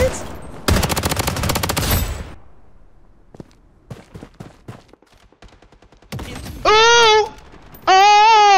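Gunfire in the shooter game Blood Strike: a loud dense burst of rapid shots up front, then scattered fainter single shots, followed by sustained electronic whooping game effects near the end.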